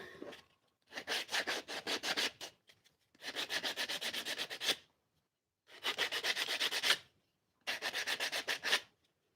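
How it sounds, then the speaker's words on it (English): Hand sanding on maple wood in four long bursts of quick back-and-forth strokes, each burst followed by a short pause, close and crisp. "how warm this maple is just from hand sanding"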